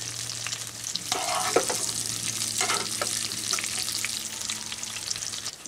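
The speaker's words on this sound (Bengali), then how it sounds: "যেহেতু অনেক বেশি তেলের মধ্যে বরবটিগুলো ভেজে নিয়েছি আমি" Long beans frying in plenty of hot oil, a continuous hissing sizzle with a faint low hum, broken by a couple of sharper bursts of spattering and light utensil clinks.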